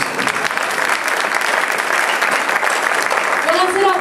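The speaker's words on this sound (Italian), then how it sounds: "per favore se la accogliete con un applauso" An audience applauds steadily to welcome a young woman performer at a tribute concert in the Dolomites, the dense clapping filling the whole stretch with a voice briefly emerging near the end.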